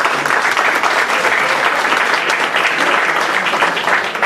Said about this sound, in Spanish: quiero que por favor recibamos con un fuerte aplauso